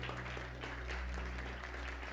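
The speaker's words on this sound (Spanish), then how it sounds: "Dale fuerte aplauso al Señor" Applause from a church congregation during a Spanish-language sermon, a steady wash of clapping heard at close range over a low hum, lasting throughout with no talk.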